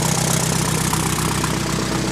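A 1949 Allis Chalmers Model D motor grader engine idles steadily and close by, a low, even mechanical chug with faint knocking running unbroken throughout, with no voices.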